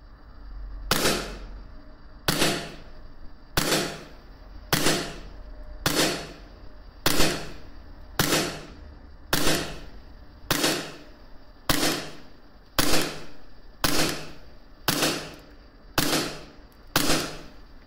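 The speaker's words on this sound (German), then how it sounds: "Wir schießen jetzt die KWA Beretta APX auf 15 und 30 Meter" A KWA Beretta APX gas blowback airsoft pistol fires single shots at an outdoor range, about fourteen sharp cracks at a slow, steady rhythm, loud and close with short decays between.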